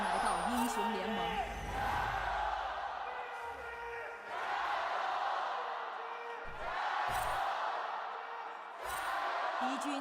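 Esports arena crowd at a League of Legends LPL Spring match, BLG versus NIP, cheering and whooping in loud swelling waves that rise and fall repeatedly, with casters' voices talking over it.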